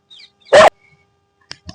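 A single sharp dog bark rings out close by, followed by a few faint short yips and rustles in otherwise quiet surroundings.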